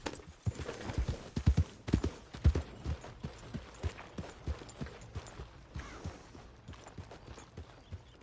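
Horse hooves clip-clop in a steady trotting rhythm, moderately close and fairly quiet, with a few sharper hoof strikes early on.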